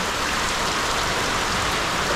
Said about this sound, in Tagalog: Dito na sa ulan.